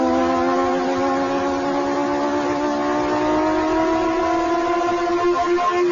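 Steady electronic engine whine from an old racing game on the Amiga, a loud sustained tone rising slowly in pitch, with no voices.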